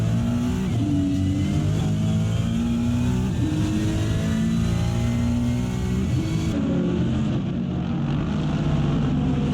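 A Ferrari 296 GT3 race car engine screams loudly at high revs at the Nürburgring, pitch climbing through the gears and dropping on downshifts, recorded on board.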